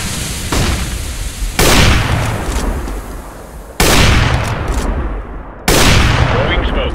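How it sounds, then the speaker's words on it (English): Gunfire and explosions in a video game come as a series of loud, sudden booming bursts, each followed by a dense sustained roar of shots and rumbling. "Throwing grenade."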